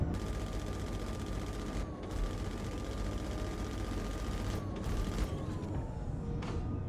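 Rapid sustained gunfire from a ship weapon in Star Citizen, a steady dense stream of shots with a whining tone running underneath, briefly cut off twice before resuming.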